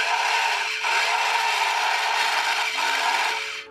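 A steady buzzing, rattling motor drone from a Parkside PP 110 A1 battery-powered toy chainsaw with a rubber chain, loud and close, running continuously with slight dips in pitch for a few seconds.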